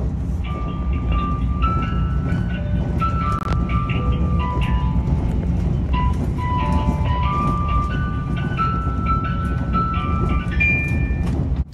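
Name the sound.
train music box chime playing Tetsudō Shōka melody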